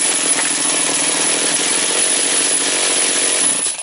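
A Motor Sich engine with a misbehaving carburetor runs at a loud, harsh, buzzing two-stroke drone, steady and close throughout with no talk.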